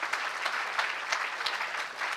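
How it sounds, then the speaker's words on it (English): Steady applause from a crowd at a NIFT Bangalore graduation ceremony, dense clapping sustained throughout at moderate volume, with no one speaking. "Can we have a huge round of applause for this batch,"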